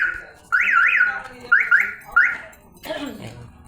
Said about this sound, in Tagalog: Yan, mag-a-alarm po yan.